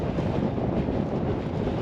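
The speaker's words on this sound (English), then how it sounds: "It is quite windy." Strong, steady wind on an open upland moor buffets the microphone in a continuous low roar, loud and close, with no voices.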